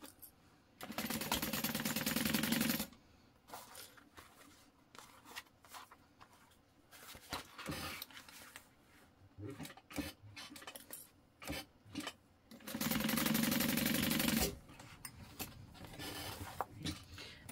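A sewing machine stitches a tote bag seam in two sustained bursts with a quieter stretch of handling and fabric shuffling between them.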